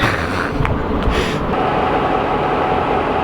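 Spirit of the Outback passenger train at rest beside the platform, its diesel locomotives giving a steady low rumble with a few brief clanks and hisses near the start.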